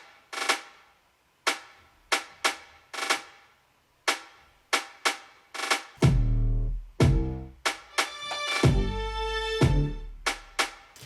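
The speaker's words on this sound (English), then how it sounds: "we go to this marching band style kit" Crisp marching-band style snare hits and rolls in a dark pop beat, sharp dry cracks in a steady, clipped rhythm, later joined by deep bass and strings swelling underneath; loud and upfront, no voices.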